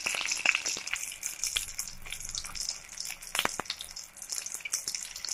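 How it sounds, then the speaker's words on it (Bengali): Parshe fish frying in hot oil, with a steady crackling sizzle and sharp spattering pops, punctuated by occasional clinks of a utensil as the pieces are turned, with no talking. "আমরা মাছটাকে উল্টিয়ে পাল্টিয়ে ভালো করে ভেজে নেব।"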